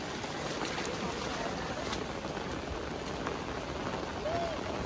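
Steady rain falls over a forest pond where fish are being caught, a dense, even hiss of drops on water and leaves filling the scene without pause.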